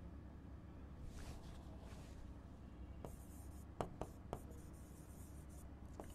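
Chalk or marker strokes scratch across a board in short bursts at low volume, with a few sharp taps and rubs.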